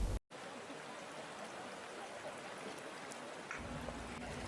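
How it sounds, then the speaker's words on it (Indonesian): Swollen Cigede river in Bandung, overflowing after heavy rain, rushing as a steady broadband roar of flowing floodwater that holds constant throughout, with a slight change in tone near the end. "arus air Sungai Cigede yang meluap akibat intensitas hujan tinggi yang mengguyur wilayah Bandung Raya sejak Kamis siang masih deras"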